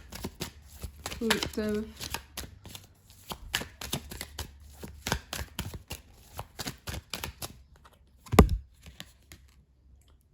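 Tarot cards being shuffled by hand, a dense run of soft riffling flicks and slaps with a sharper snap near the end, while a person talks over them.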